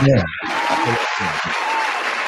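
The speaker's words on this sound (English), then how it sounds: "Give it a little applause." Audience applause at a live talk show, a short burst of clapping heard briefly beneath a speaking voice.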